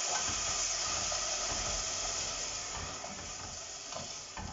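White wine poured into a pan of seafood risotto sizzles and hisses steadily, a dense close frying sound that eases off slightly as it goes, with faint stirring.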